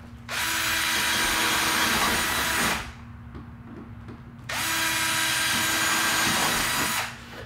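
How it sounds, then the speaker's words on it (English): A power tool, likely a rivet gun or drill, runs in two long steady bursts separated by a pause while trim is riveted onto a Club Car golf cart step; close and loud with no talking. "continuing our rivet process"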